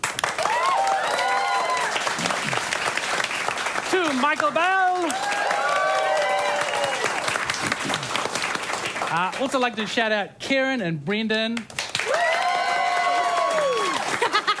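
Broadband applause and cheering from a live audience continues throughout, with someone speaking over it and excited voices rising above the clapping now and then.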